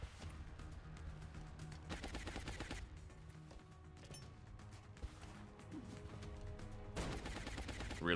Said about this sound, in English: We're gonna flashbang right now.